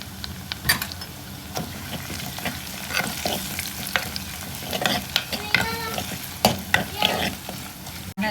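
Onion, two green chillies and curry leaves frying in oil in a pan, with a loud crackling sizzle, frequent spoon scrapes and knocks against the metal, and bursts of spitting near the end.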